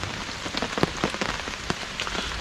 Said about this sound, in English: it's been persistent rain for pretty much the last 24 hours.